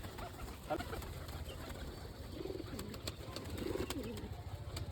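Domestic pigeons, a female among them, cooing softly in a loft with a steady background hum; a few low coos rise around the middle and near the end, with no talk.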